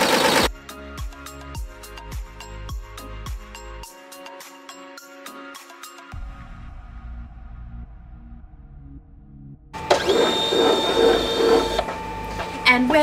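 An embroidery machine stitches a design with rapid rhythmic mechanical ticking and whirring, steady and close, pausing and shifting partway through, then giving way to a brighter, louder mechanical burst near the end.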